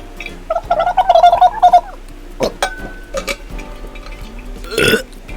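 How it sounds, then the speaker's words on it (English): A person gargles in a bubbly, throaty run of sounds, followed by a few pauses and then a loud burp close to the mic near the end. "sometimes it ends in a burp"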